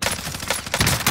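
Rapid gunfire bursts in a multiplayer shooter game using a Bullfrog and Krig 6 loadout, loud and close, crackling in quick repeated volleys through the whole moment with no talk over it.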